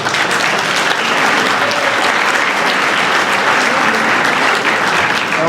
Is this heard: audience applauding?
yes